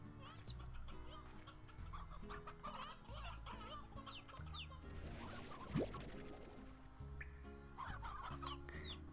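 Hens clucking among a flock of older hens, a steady chorus of overlapping clucks and squawks close by over a constant low background hum, with one brief sharper call partway through.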